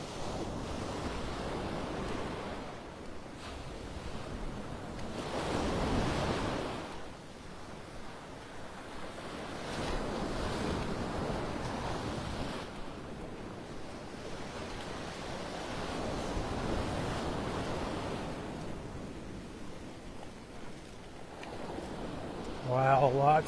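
Ocean waves roll and wash up toward the dunes on Vanderbilt Beach on a stormy morning, with surges rising and falling every few seconds under steady wind noise.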